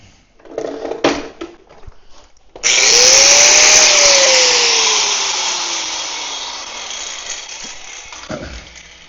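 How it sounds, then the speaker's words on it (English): A power drill bores holes in a trailer for lighting in a dim shop, whining up loud after a few quiet knocks, then winding down slowly over several seconds before a final clunk. "We'll also drill out the holes for the lighting"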